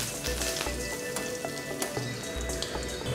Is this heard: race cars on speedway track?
no